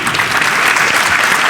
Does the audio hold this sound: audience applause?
yes